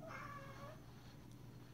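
A cat lets out a single drawn-out meow right at the start, faint and fairly close, followed by quiet room background.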